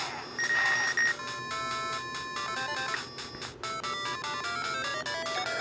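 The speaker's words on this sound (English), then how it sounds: "some of it presents as that strange ringing sound" Harsh ringing electronic tones from the Game Boy version of Pit-Fighter, sustained beeping pitches stepping up and down in a dense, buzzy chiptune wash with no talk.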